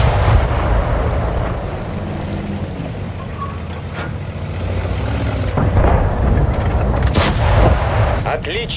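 Tank cannon shots in the World of Tanks game, LT-432 light tank, loud booming blasts over a constant rumbling battle bed, with a sharp report near the seven-second mark.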